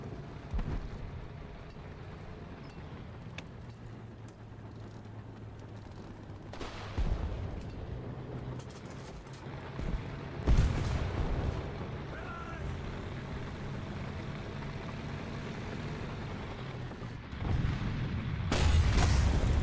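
Tank shell blasts in War Thunder, a few heavy booming impacts rising over steady engine rumble and battlefield noise, the loudest near the middle and a heavier burst at the end.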